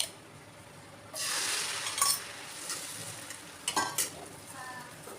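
A bread omelette fries in oil in a pan, a soft sizzle swelling after a quiet start, broken by a few light clinks of a utensil against the pan.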